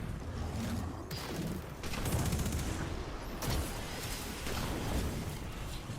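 Heavy weapon fire and rocket blasts in the Destiny Pit of Heresy dungeon during a boss fight, a continuous roar of loud rapid bursts and rumbling impacts with no talking.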